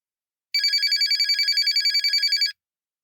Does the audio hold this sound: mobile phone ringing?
yes